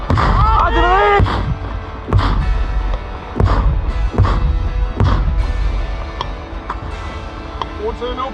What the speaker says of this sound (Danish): Artilleri!